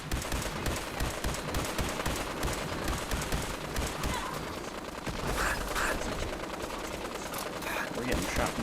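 Sustained gunfire in a Fallout 4 survival-mode battle aboard an airship, with shots raining down from above; a dense, continuous rattle of rapid bursts runs the whole time, loud and unbroken, with a voice talking faintly beneath it.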